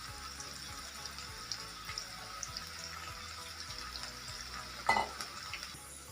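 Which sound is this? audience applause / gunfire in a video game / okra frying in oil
okra frying in oil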